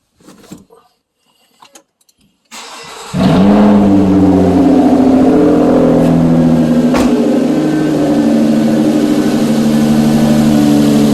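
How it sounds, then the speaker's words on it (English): After a few faint clicks and a short crank, the engine of a 2008 Nissan Altima with a suspected alternator fault catches and settles into a loud, steady idle heard close up without talk. "Let's start up the vehicle."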